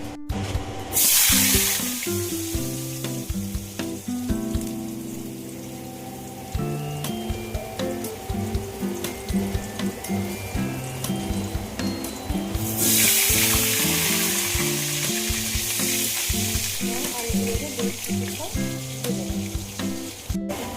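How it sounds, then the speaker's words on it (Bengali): Potatoes dropped into hot oil in a wok fry with a steady sizzle that surges at the start and again in the second half, all under continuous background music. "আমার কড়াইয়ের তেল বেশ গরম হয়ে এসছে। এবার এর মধ্যে আমি আলুগুলোকে ছেড়ে দেবো।"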